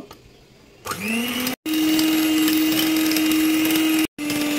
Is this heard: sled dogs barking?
no